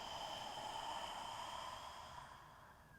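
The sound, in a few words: exhaling breath out through the mouth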